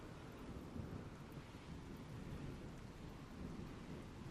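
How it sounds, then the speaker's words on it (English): Rain pours steadily with low rolling thunder in the RimWorld video game, a dense continuous wash of patter and rumble at moderate loudness, with no talking. "I think the rain's going to take that out, isn't it?"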